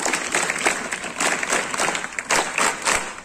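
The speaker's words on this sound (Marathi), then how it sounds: "तुमच्या सगळ्या सरांसाठी टाळ्या वाजवा." An audience claps for their teachers at a talk on becoming a collector, a burst of applause that comes in uneven swells, fairly close and loud, with no talk over it.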